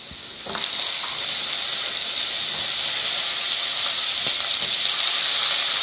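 Brinjal sautéing in a pan for vegetable chutney, a steady loud sizzle and hiss that holds throughout, with a couple of faint stirring scrapes underneath and no talking.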